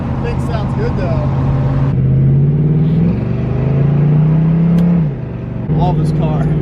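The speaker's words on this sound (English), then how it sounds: "New exhaust on the 69 Camaro. Sounds awesome." A 1969 Chevrolet Camaro with a new loud exhaust rumbles at idle and revs up in rising pulls, deep and close, while people talk nearby.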